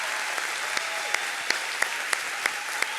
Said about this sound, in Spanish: Dale un aplauso muy grande.